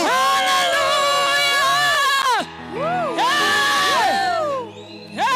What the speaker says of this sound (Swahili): Shangwe na vigelegele ya Yesu.